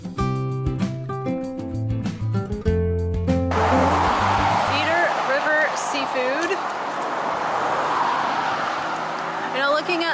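Steady road traffic noise with a broad roar of passing vehicles near a beach on Amelia Island. It starts after a few seconds of unrelated tonal sound.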